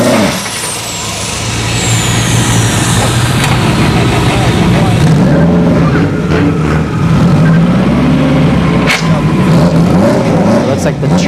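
A turbocharged Honda Civic race car runs at ShowTime Dragstrip during a test-and-tune session, its engine note rising and falling over steady low rumble and crowd ambience, with voices heard in the background.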